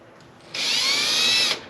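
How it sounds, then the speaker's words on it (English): A power drill fitted with a spot weld cutter bites into sheet metal on a classic Oldsmobile, a single loud, high-pitched whine of about one second that starts abruptly and cuts off cleanly. "I'm going to run the drill. It'll drill in just a bit, and then I'll give it a push"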